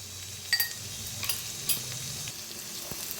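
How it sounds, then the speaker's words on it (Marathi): Spice masala of turmeric, red chili powder and garam masala roasting in oil in a pan for a potato and fenugreek dish, giving a soft steady sizzle with a few brief stirring scrapes, close and alone. "आता मस्त असा म सगळा मसाला भाजून घेऊया छान असा भाजायचा मसाला"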